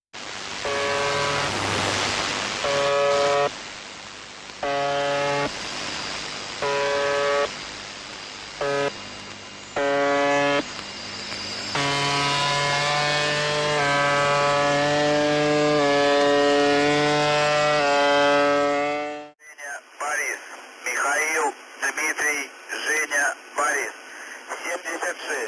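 A numbers-station shortwave radio broadcast carrying number groups, a call sign and a phonetic-alphabet code word, with a voice reading over steady tonal bursts and then a sharp switch to warbling electronic tones near the end.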